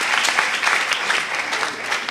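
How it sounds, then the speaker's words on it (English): Studio audience at a banking and finance quiz show applauding contestants, a dense, steady burst of clapping filling the room for a couple of seconds without letting up. "Let's clap for them."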